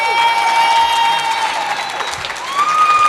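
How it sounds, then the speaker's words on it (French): Audience applause for a guest chef at a street food event in Lyon, a dense, steady wash of clapping with some cheering, loud and sustained throughout, with faint tonal whistles over it. "On peut l'applaudir s'il vous plaît"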